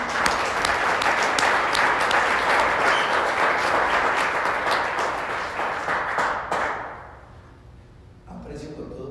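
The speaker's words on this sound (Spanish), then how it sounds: "Le damos un aplauso a nuestro Señor." A church congregation claps loudly and continuously in praise, with sharp individual claps standing out from the dense crowd, before the applause thins and fades to near quiet and a few faint voices.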